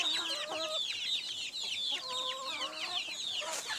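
Chickens cluck and chatter busily at feeding time, several birds calling at once in quick overlapping bursts, close by and fairly loud.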